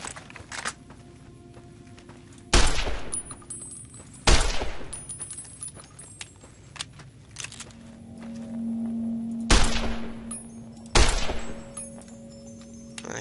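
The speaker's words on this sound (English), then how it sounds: "Probably because I'm shooting at him." Video game gunfire in Fallout New Vegas on the road to Mojave Outpost, with four loud, sharp, widely spaced shots ringing out over a quieter background of footsteps and ambient game noise.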